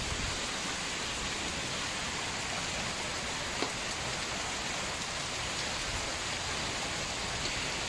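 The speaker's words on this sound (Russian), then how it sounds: "Дождь освежающий." Steady rain falling outdoors, an even, close hiss of drops on surfaces with no talking over it.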